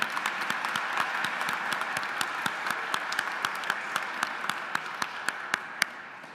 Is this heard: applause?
yes